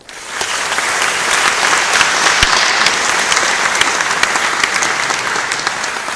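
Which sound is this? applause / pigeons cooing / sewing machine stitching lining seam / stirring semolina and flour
applause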